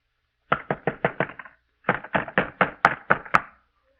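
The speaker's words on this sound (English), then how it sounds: "Keep him from pounding on this door." Heavy knocks pounding on a wooden door in two rapid bursts, the first of about seven blows and the second of about nine, loud and close, with no voices.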